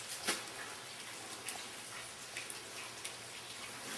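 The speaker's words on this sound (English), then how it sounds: "And you can hear it's raining out there again," Rain falls outside a workshop, a faint, even patter with a few sharper drips scattered throughout.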